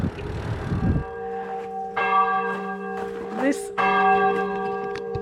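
A church bell in France chimes for twelve o'clock, striking a few times at a slow, uneven pace. Each strike leaves a sustained, ringing hum that overlaps the next, heard from a moderate distance over faint outdoor noise.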